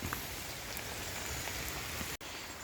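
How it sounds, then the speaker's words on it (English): Steady rain falls across a food forest garden with swales and self-watering beds, a dense continuous hiss of drops on leaves and surfaces, close and even, broken only by a split-second dropout near the end. "And we're getting this much needed rain"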